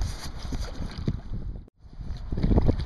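Kayak paddling on Eel Lake, Oregon: soft water swishes and dips from paddle strokes under steady wind buffeting, with one brief gap of near silence midway before the splashy strokes resume.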